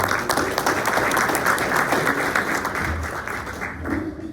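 Audience applause at a morning community business event, a full, continuous burst of many people clapping that tapers off near the end as a voice begins.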